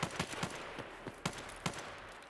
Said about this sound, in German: Das sind nicht meine Schüsse.